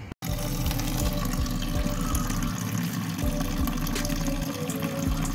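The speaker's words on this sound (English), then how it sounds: "what I've rigged up here is a garden hose plumbed into the feed line for the radiator and a bucket sitting under the return" Water from a garden hose rushes steadily through a car radiator's feed line into a bucket under the return on a Status Error MR2, a loud continuous gush with a low pump-like throb, alone and without talk.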